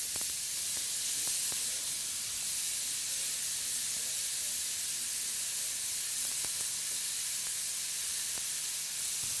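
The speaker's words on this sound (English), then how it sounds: "we're just going to sear it on both sides, cook it to the temperature on the inside that we want." Venison backstrap searing on a hot cast iron griddle, a steady close sizzle and hiss that runs unbroken throughout with faint small clicks.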